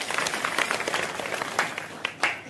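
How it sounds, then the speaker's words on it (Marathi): An audience at a Navratri kirtan program claps in brief, steady applause, moderately loud and close, with a hint of a voice underneath. "शकुंतला ताईंसाठी एकदा जोरदार टाळ्या वाजवा."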